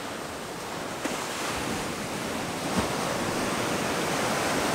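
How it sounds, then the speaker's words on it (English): Ocean surf washing steadily onto a Phuket beach in Thailand where people swim, a broad continuous roar with a couple of soft breaking swells and light wind on the microphone, no talking. "Not a really huge wave"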